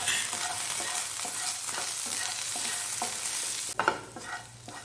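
Potato fry stirred in a pan, a spoon scraping and turning the pieces in a steady rhythm over continuous hissing sizzle from the hot oil, close and fairly loud, ending in a sharper clatter.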